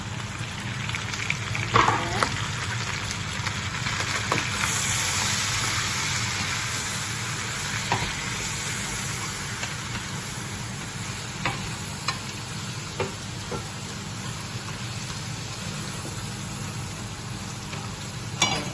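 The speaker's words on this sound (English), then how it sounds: "So it's my mixture: peppers, onion, garlic and ginger. So just toss it up." Peppers, onion, garlic and ginger fry and get tossed in a very hot pan, giving a steady close sizzle with scattered scraping stir sounds and no voices.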